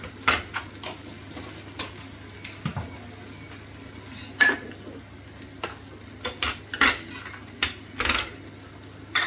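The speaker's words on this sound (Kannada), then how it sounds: "ಮಿಕ್ಸ್ ಮಾಡಿಬಿಟ್ಟು ಒಂದೆರಡು ನಿಮಿಷ ಮುಚ್ಚಿಡೋಣ." Okra stir-fry being mixed in a pan, with irregular scraping and clinking of a utensil against the cookware, scattered knocks over a low steady background hum, no talking.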